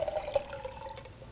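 Tomatoes and their soaking tap water are poured into a container, a short steady trickle and splash of liquid with faint gurgling, close and quiet with no talking.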